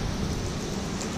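Steady rain falls during a long-distance bicycle ride across America, a dense, even hiss of rain noise that stays loud and unbroken throughout the short moment, with no voice.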